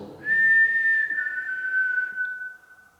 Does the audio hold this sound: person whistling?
yes